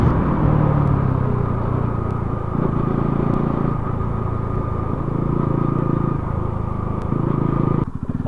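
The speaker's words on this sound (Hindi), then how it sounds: "और दोस्तों मैं फंस चुका हूँ अभी जाम में। दिख ही रहा होगा आपको सामने कितना ट्रैफिक है।" Steady rumble and whir of cars and motorcycles idling and creeping in a traffic jam on a hill road, a continuous close engine drone with no talking.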